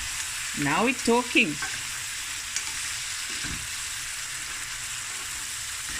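Butter melts in a hot pan for seafood rice, giving a steady close frying sizzle throughout, with a short spoken remark near the start.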